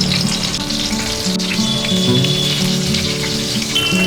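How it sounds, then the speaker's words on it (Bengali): Eggplant (brinjal) pieces fry in hot oil in a pan, giving a steady, close sizzle that runs on without a break, with quiet music underneath and no talk. "বেগুনগুলোকে আমি এবার খুব ভালো করে ভেজে নেব"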